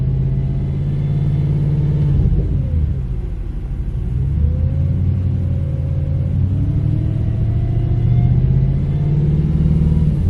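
Audi RS4 on a cold day with a faulty power steering system, a low steady rumble from the car while driving with a wavering whooping tone rising and falling over the engine drone.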